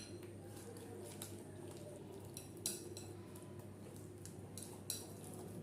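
Semolina and yogurt batter for idli being stirred with a little water added, a steady soft wet scraping with faint clinks of a spoon against the bowl, close and continuous, with no one speaking.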